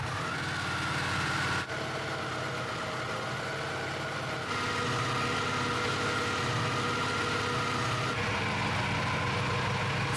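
A Ducati motorcycle engine idling steadily, a continuous low mechanical rumble with a faint hum, close and unchanging throughout with no talk.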